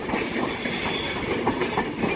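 Train rolling past at Carlisle on the West Coast Main Line, a steady close rumble with wheel and carriage noise filling the whole stretch, no voices.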